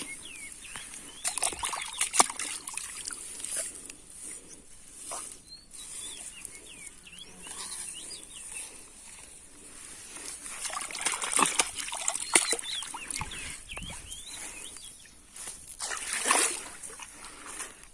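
Fish being rinsed by hand in water outdoors, with intermittent splashes, trickles and sloshing over a steady hiss, fairly close and moderately quiet, no talk.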